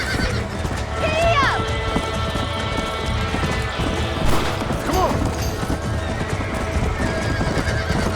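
Horse neighing and galloping in the video game Red Dead Redemption, with steady clip-clop hoofbeats and a couple of whinnies over game noise, while someone talks over it.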